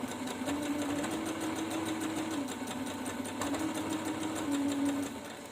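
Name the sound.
sewing machine stitching a cloth face mask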